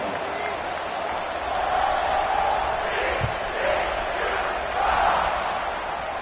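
Football stadium crowd at a Texas vs TCU game roaring steadily at kickoff, a broad sustained wash of cheering that swells in waves, with no clear talk over it.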